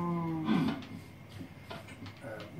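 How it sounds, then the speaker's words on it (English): Cows moo in the game Minecraft, one low bellow rising over a quiet background, with softer faint farm sounds trailing after. "Cows escaped."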